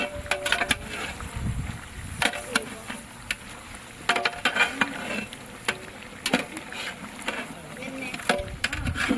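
A large pot of chicken fry, about 10 kg, stirred with turmeric outdoors among green fields for a village fair, with scraping and clattering strokes at a steady rhythm while people talk nearby.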